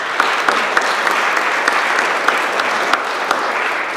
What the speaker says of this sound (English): So they too deserve a round of applause.